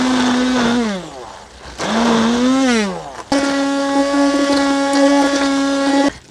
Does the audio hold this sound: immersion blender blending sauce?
yes